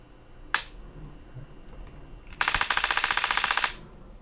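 A D3FY D3S paintball marker fires semi-auto at 15 balls per second: one sharp pop, a short pause, then a rapid, close, even burst of shots lasting over a second.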